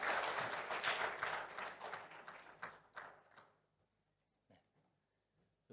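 A church congregation at a Sunday worship service claps in warm support for a baby's first appearance, dense applause that fades out after about three seconds, leaving a few scattered late claps in near silence.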